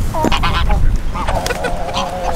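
Emus calling on a farm on a windy day, loud honking calls repeating in short bursts close by, with wind and other birds mixing in.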